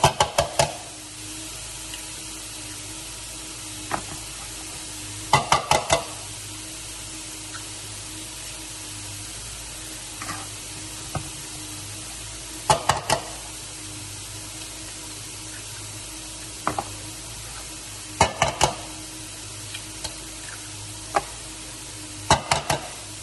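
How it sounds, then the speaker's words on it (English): Six eggs are beaten in a bowl, heard as short bursts of rapid clicking and knocking against the bowl separated by quiet pauses, near and clear with no speech. "in a bowl, I'm going to mix"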